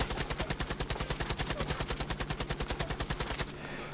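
A full-auto military rifle in a video game fires a fast, even burst of shots that continues for about three and a half seconds and then cuts off, leaving a quieter tail. No one speaks.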